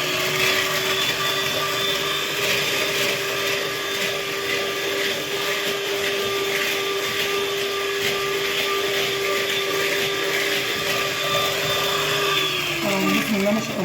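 An electric mixer whips cream with raw cocoa, whirring steadily at one speed throughout with a high motor whine, then slowing and dropping in pitch at the end.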